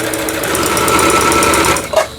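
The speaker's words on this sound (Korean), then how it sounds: "가장 중요한 직선 바느질이 되겠습니다." A Singer Confidence Quilter sewing machine, just repaired, runs a steady straight stitch, its dense rapid needle chatter loud and continuous for about two seconds before a brief click and tapering off.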